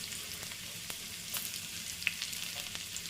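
Small chopped shallots sizzle and fry in hot oil in a pan, a steady soft crackle with a few sharper pops, close and alone.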